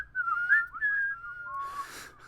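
People whistle a simple tune together during a casual gaming chat stream. It is a clear, wavering melody line held for about two seconds, with no talking over it.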